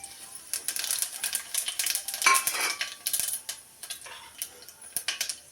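Ground paste fries in hot oil in a pressure cooker, with an uneven crackle of spits and pops and some sharp metallic clinks, fairly quiet and close.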